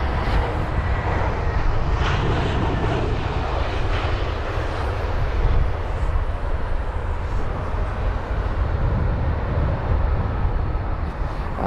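Airliner arriving at London Heathrow, a continuous broad jet engine roar at moderate distance, steady throughout with slight swells.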